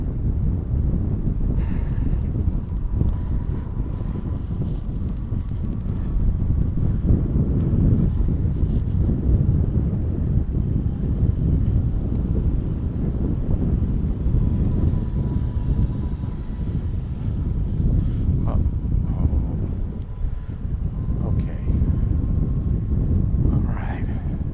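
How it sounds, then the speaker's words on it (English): Steady wind buffeting the microphone during a morning ride on the open 1863 Safari Express train at a zoo, a continuous low rumble lasting throughout. "Got some wind blowing."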